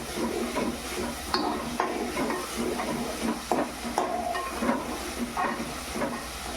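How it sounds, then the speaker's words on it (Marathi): Chopped onion sizzling and being stirred in a hot pan for a chicken dish, a steady frying hiss broken by repeated scraping stir strokes, close and continuous with no talk. "कांदा आपण व्यवस्थित परतून घेऊ त्याला"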